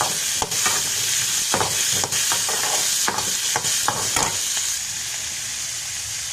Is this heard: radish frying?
yes